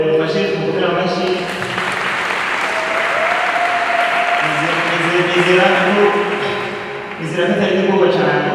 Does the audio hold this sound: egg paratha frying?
no